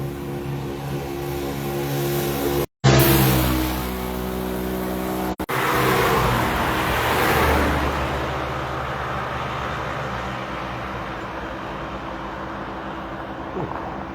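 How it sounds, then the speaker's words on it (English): Steady roar of highway traffic with engines and tire noise throughout, broken by two brief dropouts, with a vehicle surging louder midway. "I'm on the highway, so it's going to be kind of loud."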